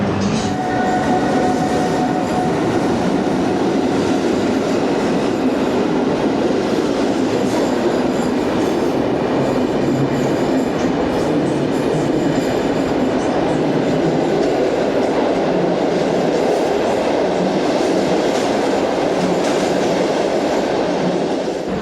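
Steady, loud rumble of a train in motion, with rhythmic rail clatter and a continuous low roar throughout, no voices.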